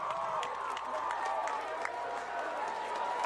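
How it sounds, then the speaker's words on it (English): Crowd applause and cheering for the Wausau West cheer squad at a high school football game between Wausau West and Wausau East: steady clapping from a distant crowd in the stands, continuous and moderately loud, with an announcer's voice over it. "Put your hands together for the cheer squad"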